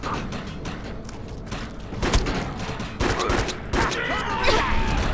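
Rapid bursts of gunfire from the shooter game Defiance crackle continuously through the scene, mixed with impacts and other in-game sounds at a steady, busy loudness.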